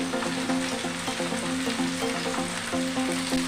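Ground chilli, ginger, cumin, garlic, coriander and cashew pastes sizzle and fry in a pan, a steady close crackle with faint scraping stirs and a low background hum, no talking.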